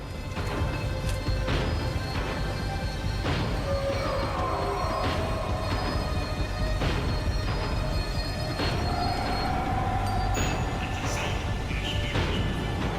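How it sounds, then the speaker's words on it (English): A tram slows down in the Max Payne 3 video game, its continuous rumbling rail noise joined by squealing wheels and sporadic metallic bangs and clatters, loud and close throughout with no talking. "The tram was slowing down, and I'd only just gotten on board."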